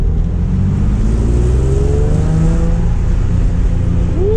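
A Nissan 350Z drives with a loud, close engine drone, its pitch climbing steadily as it accelerates through the gears, no speech over it.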